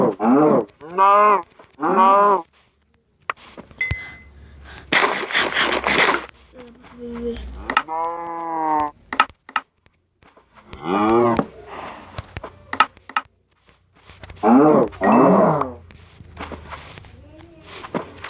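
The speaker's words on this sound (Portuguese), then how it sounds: "Tem muitas vacas." Cows in a video game moo repeatedly in several drawn-out calls, with footsteps and short pauses between them, and someone speaks at moments in between.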